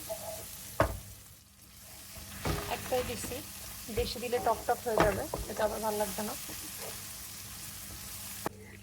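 Ginger, garlic and spices fry in a pan for a fish curry, with steady sizzling and intermittent stirring scrapes and clatter. Someone talks over much of the cooking.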